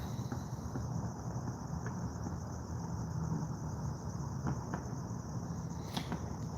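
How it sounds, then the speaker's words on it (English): Crickets chirping outdoors on a night, a steady far-off trill with faint scattered clicks and no voices over it. "Can you hear the crickets?"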